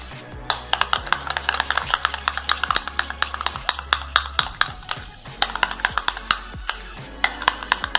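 Yogurt sweetened with powdered sugar and a pinch of salt is whisked in a bowl, giving rapid, steady scraping taps close up that continue without pause throughout.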